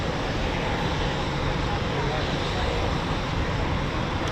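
RAF Typhoon FGR4 tranche 3 jets fly overhead as a loud, dense, continuous roar that fills the whole clip at an even level and sounds near.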